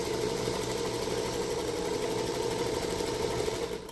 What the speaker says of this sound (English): this is where you can just follow the black line to stitch